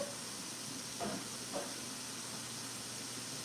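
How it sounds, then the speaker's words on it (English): Chicken sautéing in a pan gives a steady, soft sizzle and hiss, with a couple of faint clinks or stirs breaking through, quiet and continuous with no talking. "So we're gonna let this saute for just a second."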